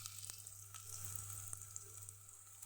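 Chopped onions sautéing in a pan, a faint, steady soft sizzle with light crackles, heard alone at low level.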